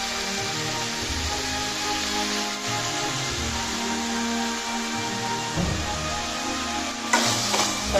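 Mushroom gravy masala sautés in a pan with a continuous, even sizzle and hiss, close and fairly loud, and an occasional stir. No one speaks.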